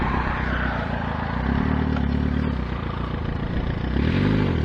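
A motorcycle rides off in second gear on a dusty track, its engine droning steadily with rising revs as it accelerates, close up, with rattle and wind noise and no talking.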